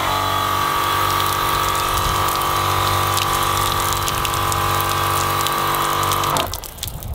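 Water pours steadily from the water feed of a Milwaukee M18 Fuel 9-inch cut-off saw beside a constant motor or pump hum, continuous and loud, until it stops abruptly near the end.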